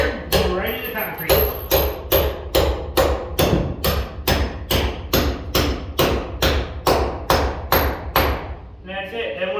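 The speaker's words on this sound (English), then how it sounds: "we're going to pound this in with a hammer, regular hammer" A regular hammer drives an anchor through a 2x4 into concrete with a steady run of about twenty sharp, evenly spaced blows, loud and close.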